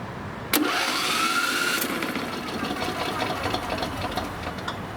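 John Deere lawn tractor engine cranking over with no compression, the starter spinning fast and even in a steady whirring drone that starts abruptly and runs on without catching.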